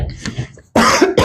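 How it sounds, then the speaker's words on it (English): A close cough, a couple of short harsh bursts, from a lifter between sets during log press training in a gym. "I tried to cough away from the mic there."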